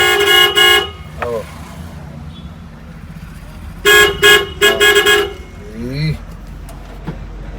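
A Maruti Omni van's horn, tested through its horn relay, blares in short, loud bursts, once at the start and then several quick honks in a row, over low engine and street noise.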